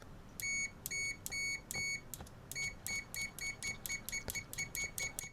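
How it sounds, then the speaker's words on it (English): An Aneng SZ303 budget multimeter gives a rapid series of short, shrill electronic beeps during continuity testing with new probes, bursts stuttering on and off close to the mic. "Long beep."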